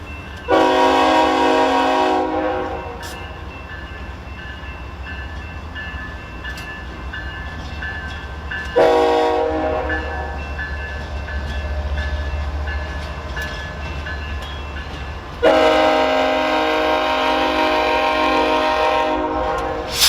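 Trains rolling past a trackside spot in Oklahoma, with loud horn blasts sounding three times over a steady rumble of passing cars and wheels.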